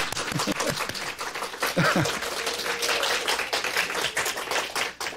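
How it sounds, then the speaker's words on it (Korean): Church congregation clapping to welcome newcomers during a Sunday service, a scattered, moderately loud round of hands with uneven taps, a few brief voices calling out over it. "우리 다 같이 박수로 환영하겠습니다"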